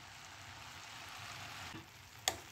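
Cabbage and besan zunka cooks gently in a pan over a low gas flame, giving a faint, steady sizzle, broken by one sharp click of a utensil near the end.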